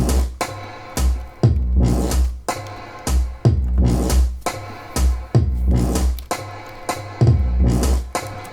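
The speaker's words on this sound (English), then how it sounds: "So then the drum machine by itself sounds like this." A programmed drum machine beat plays on its own: heavy, booming kicks land roughly once a second with snappy hits and noisy decays between them, loud and close with no voices.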